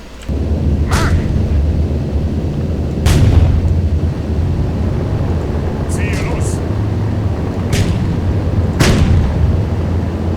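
Nebelwerfer rocket artillery firing in the World War II strategy game Sudden Strike 3, a German campaign mission, with several sharp booming launches spaced over a steady rumbling battle bed while someone talks throughout.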